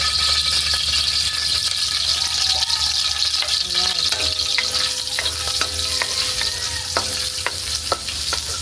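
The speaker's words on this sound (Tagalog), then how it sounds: "mag-start na po tayo mag-gisa po. Lagay po yung bawang" Garlic sizzles steadily in hot oil, a continuous loud frying hiss with occasional light clinks and scrapes of stirring.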